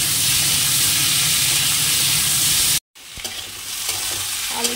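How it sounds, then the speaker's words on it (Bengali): Potatoes fry in hot oil with a loud, constant sizzle, then a moment of silence before the sizzle returns more softly with a few stirring scrapes. "তো দিয়ে দিই আলুটা,"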